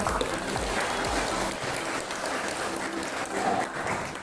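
Applause from an audience at a chemical engineering teaching practice session on water filtration, a steady mid-level clatter of many hands that runs through the whole stretch without pause.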